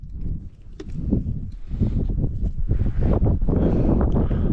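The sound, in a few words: wind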